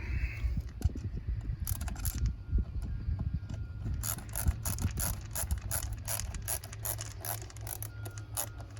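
Ratcheting clicks from a wrench tightening the bolts on a Saturn Vue mass airflow sensor, coming in quick close bursts over a low steady hum.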